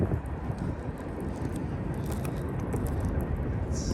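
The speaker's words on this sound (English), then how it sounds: "It'd be better if the wind stopped" Wind buffets an outdoor microphone while someone roller skates on new Impala skates, a steady low rumbling gusting roar that stays loud throughout.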